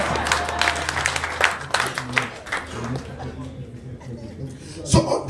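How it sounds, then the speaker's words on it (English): A seminar audience breaks into scattered, fairly close hand clapping that thins out and dies away after a few seconds, leaving a quieter room with a brief noise near the end. "You can clap if you want to."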